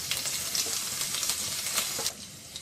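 Grated ginger fries in oil over a low flame with curry leaves and onion for buttermilk kadhi, a continuous soft hiss and sizzle with a few light stirring taps, steady and close without speech.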